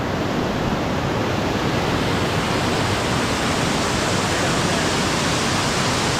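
Rushing water of a waterfall pouring down a rocky drop, a loud, steady broadband roar filling the whole stretch with no breaks and no voices.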